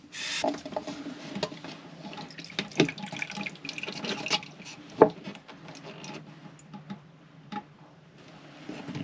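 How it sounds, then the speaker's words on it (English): Water runs and trickles steadily from a Jabsco toilet pump with small splashes and taps, close by, with scattered clicks over the flow. "That's the first bit of water."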